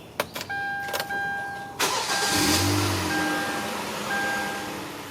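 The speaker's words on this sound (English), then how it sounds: "Start the vehicle and allow the engine to run." Kia Forte engine starts with a brief crank and catches, then settles into a steady close idle, with a few clicks and electronic chimes at the start.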